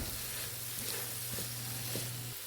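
Goat lungs sauté in hot oil, giving a soft, continuous hiss of sizzling with a few faint stirring taps, heard close and fairly quiet.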